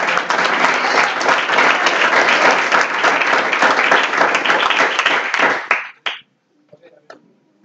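A church congregation claps and applauds loudly and steadily for about six seconds, with voices mixed in, before the clapping tapers off into scattered faint sounds.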